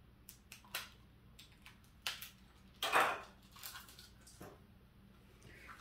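Scissors snip open a Dollar Tree plastic ribbon package with little bunnies, giving a few sparse crinkly cuts with one louder crackling snip in the middle, close up in a quiet room.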